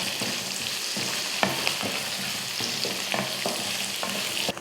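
Ginger sautés in a pan for a restaurant-style Punjabi chicken curry, a constant close sizzle broken by repeated scraping stirs of a spatula, with no voices.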